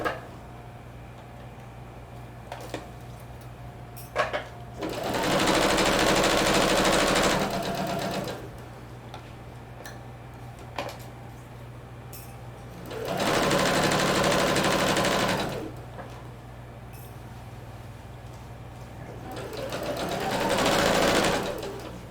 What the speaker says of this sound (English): continue stitching at 5/8 of an inch seam allowance all around the pocket bag